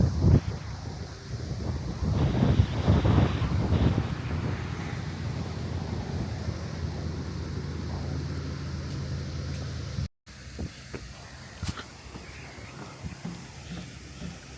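Wind gusting across a microphone on an autumn hiking trail in a conservation area, a loud low buffeting that swells and then settles into a softer steady rush after a brief cut.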